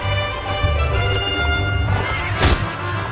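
A horse in the video game Mount & Blade whinnies amid steady game noise, with a sharper, louder burst near the end.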